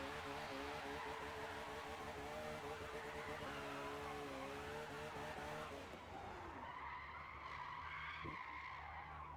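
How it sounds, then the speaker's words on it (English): A race car in a video game racing event at Bathurst does a burnout, with its engine roaring steadily under a continuous, loud tire squeal and skid. The squeal shifts and thins toward the end, and no voices are heard. "Doing a burnout for the fans there."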